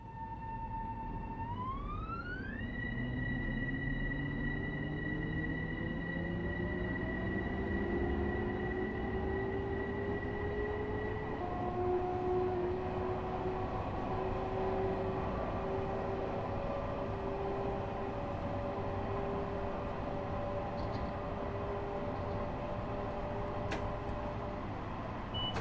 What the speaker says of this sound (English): So we're now taking off from Woodlawn.